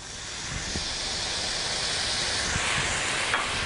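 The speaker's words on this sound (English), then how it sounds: "I'm going to deglaze my pan with a bit of fish stock." A pan deglazed with fish stock while cooking turmeric dill mulloway fillets, giving a steady, close broadband sizzle and hiss that carries evenly throughout, with a few faint clicks and no talk.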